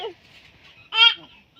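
A single short, loud cluck from a chicken near the recorder, with fainter bird calls and brief murmurs around it in a quiet setting.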